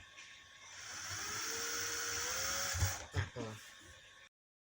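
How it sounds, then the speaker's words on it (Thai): A steady high-pitched electric drill whine runs for several seconds boring a two-inch plastic pipe, then cuts out with a few knocks and clunks at the end. "เจาะนะครับ ท่อ สองนิ้วนะครับด้วยสว่านเสร็จแล้วนะครับ"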